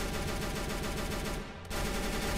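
Rapid automatic gunfire from a P90 assault rifle in the Starbound game, loud and continuous for about two seconds with a brief gap near the end before the burst resumes.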